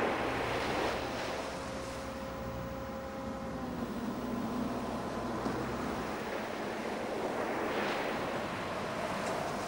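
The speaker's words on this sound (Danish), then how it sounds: "Bølgerne må være mindst 5-6 meter høje." Storm surf and heavy wind batter a rescue boat heading out onto the North Sea in a strong gale, a loud, continuous roar of crashing waves and wind buffeting the microphone, with a faint engine drone underneath and no voices.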